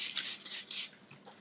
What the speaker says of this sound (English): let me wipe down my counter